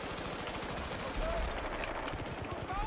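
Rapid gunfire in the Vietnam expansion of Battlefield Bad Company 2, a dense run of bursts with a heavier shot near the middle, set against constant battlefield noise with no talk over it.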